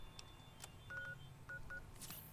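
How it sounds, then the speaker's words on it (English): Cell phone dialing tones in Fallout 3: a quick series of short electronic beeps, a few in a row with small gaps, faint over a low steady hum, no talking. "Cell phone."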